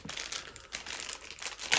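A thick plastic parcel bag crinkles and crumples steadily as a parcel is unpacked, close and fairly loud, with a sharper burst of rustling near the end and no talking.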